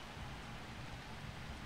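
Steady rain in the Blood Bowl 2 fantasy football video game, a dense, even hiss with soft low rumble underneath, continuous and fairly loud with no voices.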